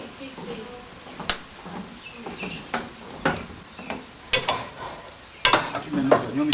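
Onions frying in a pan for a goat massalé curry, with sharp scrapes and clacks of stirring over a soft sizzle, recurring irregularly while a voice talks quietly.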